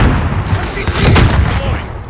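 Gunfire in a Call of Duty: Modern Warfare multiplayer match, heavy booming shots and blasts rolling continuously with dense low rumble, close and loud throughout.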